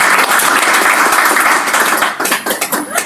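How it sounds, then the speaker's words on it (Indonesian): A small audience claps during a hypnotherapy wellness session, loud and close at first, with a thick burst of hands that thins out toward the end into scattered, separate claps. "Tepuk tangan dulu buat Mas."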